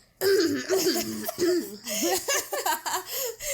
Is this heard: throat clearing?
yes